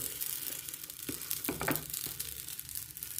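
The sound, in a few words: flatbread frying in a covered pan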